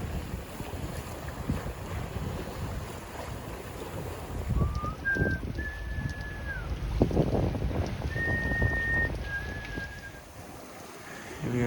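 A sailboat makes about 5.5 knots in a steady wind toward a harbor near Stavanger, with constant wind rush on the microphone, water washing along the hull and a few thin whistling tones.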